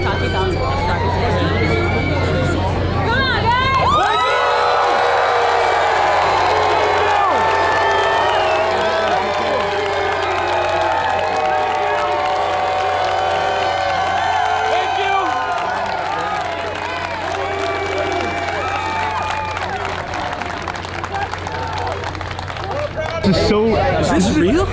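A crowd at a strongman competition final cheers and roars loudly and continuously, with clapping and excited shouting blending into a sustained wall of noise that is briefly preceded by a voice over a low hum.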